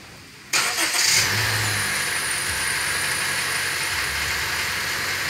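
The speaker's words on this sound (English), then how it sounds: "this car starts up a lot louder than it did when it was new." A 2015 Honda Fit EX engine cranks and catches after a brief quiet moment, then settles into a loud, steady idle with a faint high whine running through it; no one talks.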